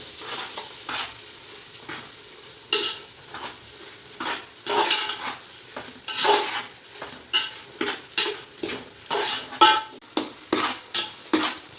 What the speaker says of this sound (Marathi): हे बघा, आता रवा असा भाजून थोडा हलका व्हायला सुरुवात झाली.